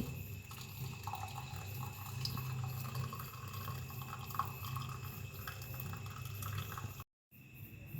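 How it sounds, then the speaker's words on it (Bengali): Boiled cumin water strained off the stove after a rolling boil, a steady close trickle of liquid pouring through a strainer that runs for several seconds, then cuts out briefly near the end. "আমি এখন পানিটা ছেঁকে নিচ্ছি"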